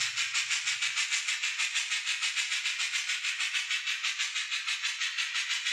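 Model train running steadily along its track, a continuous nearby hiss with a fast, regular clickety rhythm and no talk.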